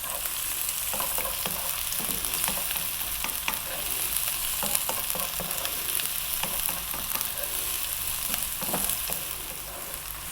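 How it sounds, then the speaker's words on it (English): Onion stir-fried on high heat with garlic and ginger in a pan, a dense continuous sizzle broken by frequent quick stirring scrapes, close and steady with no speech. "Keep stirring it around for about 3 or 4 minutes on this high heat."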